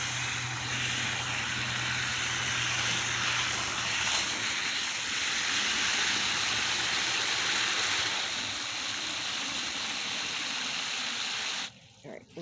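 Steady water splashing and trickling as a bird bath with a solar fountain fills outdoors, a continuous loud wash that cuts off abruptly near the end.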